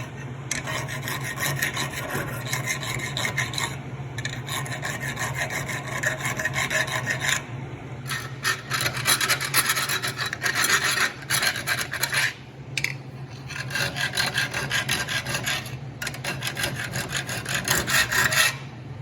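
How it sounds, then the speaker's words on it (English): Hand file rasping steel washers welded onto a board track bike replica part, clamped in a worn vise; steady, close back-and-forth strokes run continuously for the whole stretch with brief pauses between passes. "I'm gonna dress these things up with my file"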